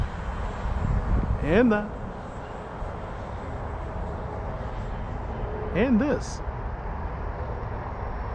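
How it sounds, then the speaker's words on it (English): An FMS L-39 RC model jet with a 2000 KV motor on 6S power flies as a steady, rushing electric-ducted-fan whine with a thin high tone, running continuously under two brief spoken remarks. "And the plane will just fly like a bat out of hell."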